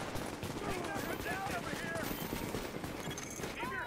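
Dense, continuous gunfire in The Division as hostiles fire on a fortification, a steady barrage of overlapping shots with in-game radio chatter and sound effects mixed over it.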